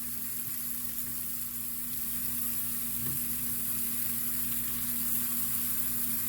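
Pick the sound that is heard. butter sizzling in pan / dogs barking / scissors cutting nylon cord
butter sizzling in pan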